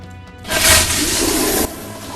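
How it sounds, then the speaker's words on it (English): A toilet flushes in a film scene, a sudden loud rushing whoosh of water that starts about half a second in, holds steadily for over a second, then cuts off into quieter room tone. "he accidentally triggered another flush"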